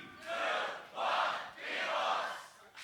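A crowd at a beatbox battle shouts loud, rhythmic chant-like calls in three big swells, the massed voices rising and falling together like a counted call-and-response.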